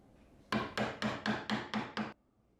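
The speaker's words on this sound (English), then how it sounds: "Lightly strike the chisel to create a guiding cut on all four sides of your marked area." Seven crisp, evenly spaced hammer blows drive a Japanese chisel lightly into wood, each strike sharp and close, followed by quiet.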